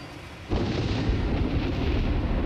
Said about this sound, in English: It's actually like 3 or 4 different sets of fireworks and of thunder, and they go off every sort of 8 to 10 seconds.